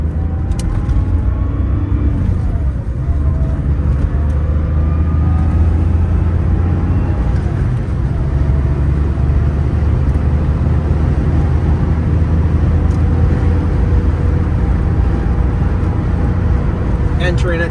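A 1984 Porsche 911 Carrera Targa accelerates onto a freeway, its engine a steady, loud rumble heard from inside the car along with road and wind noise, continuous and unbroken throughout.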